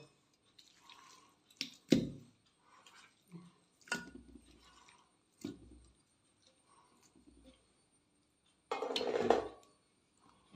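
Beef being placed into a pressure cooker, with scattered clinks and clatters of pots and utensils and a louder rattling burst near the end, separated by quiet gaps.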